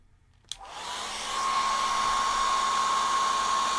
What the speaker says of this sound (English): Right, hairdryer noise coming.